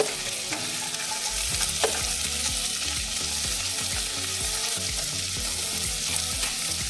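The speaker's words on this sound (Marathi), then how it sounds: "आपल्याला हे गोल्डन ब्राऊन होतवर कांदा आणि टोमॅटो परतून घ्यायचं आहे" Onion and tomato with ginger and garlic sautéing toward golden brown, a dense hiss with rhythmic spatula strokes scraping the pan throughout, close and steady.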